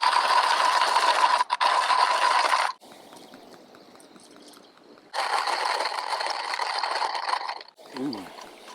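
Hand coffee grinder crushing fruity coffee beans outdoors on a motorbike trip in Norway, a loud close gritty rasping ratchet in long bursts with a pause in the middle, then a brief faint squeak at the end.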